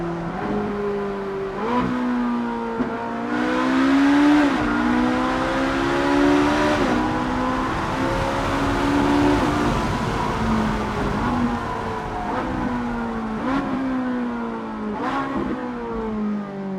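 A Ferrari 458 Italia's engine howls close up from inside the car as it accelerates hard through rising gears, pitch climbing then dropping at each upshift in a repeated rhythm, loud and without talk.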